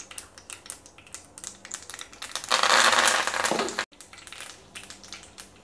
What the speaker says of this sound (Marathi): आपली मोहरी आणि जिरं चांगलं तळतळत आहे